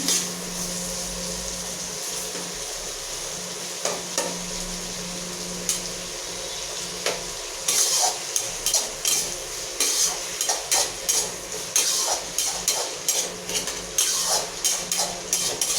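Onions for egg curry stirred in a pan, with tomato added, over a steady frying sizzle; spoon scrapes and clinks start sparse, then turn into a run of quick, close, rhythmic stirring strokes.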